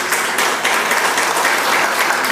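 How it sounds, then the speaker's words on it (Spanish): A forum audience applauds teachers at a public meeting on drinking water, a dense, steady wash of many hands clapping at full volume throughout, with no voices rising above it. "Un aplauso, por favor, para los compañeros maestros."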